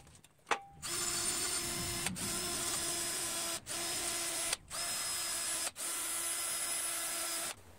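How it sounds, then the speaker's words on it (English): A drill fitted with a 2-inch wire wheel strips loose paint from a mini bike part, running in a steady loud whir with several brief pauses between bursts, no talking. "I have this little 2-inch wire wheel with that I put on the drill."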